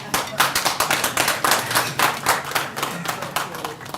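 An audience claps for speakers walking to a podium at a regional industrialisation week media day, with dense, rhythmic hand claps close by and fairly loud, pulsing unevenly throughout.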